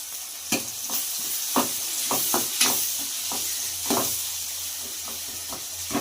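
Whole spices, turmeric and coriander frying in a pan for Nellore fish curry, a steady close sizzle broken by a dozen or so short scraping stirs at an uneven pace, with no talk.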